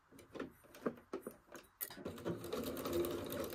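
Sewing machine stitching fabric with the stitch length set to 2.4, close and fairly quiet, starting with a few separate clicks and thumps and then settling into a steady fast mechanical whir.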